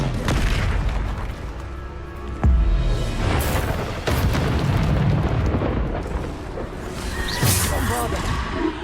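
Bombarda spell blasts in Hogwarts Legacy on PS4, deep booming explosions with whooshing bursts and rumbling debris, loud and layered over continuous game noise, with a voice speaking amid the action.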